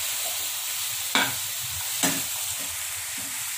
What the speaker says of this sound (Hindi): अच्छे से मिक्स कर देना है इनको और इसको थोड़ी देर अच्छे से भून लेना है।